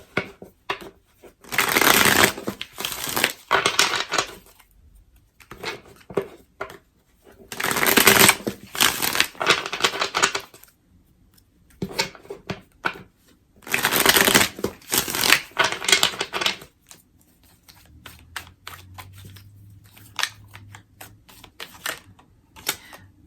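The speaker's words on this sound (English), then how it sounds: "This energy is coming out as I'm shuffling" Tarot cards are shuffled in repeated bursts of riffling and rustling, about four loud rounds separated by short pauses, ending with quieter handling.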